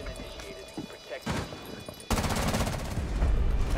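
Gunfire in a first-person shooter game, a burst of rapid shots that grows denser and louder in the second half, with voices talking over it.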